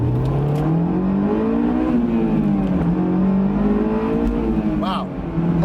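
A Honda S2000 accelerates hard through the gears, its engine note climbing in pitch, dropping briefly at a shift and climbing again, loud and close from inside the car, with a short voice near the end.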